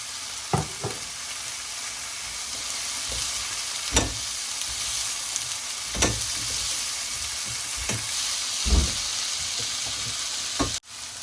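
Spring onions and tomatoes sizzle in a frying pan for an Afghani omelette with eggs and potatoes, a steady low hiss broken by sharp spatula knocks every second or two.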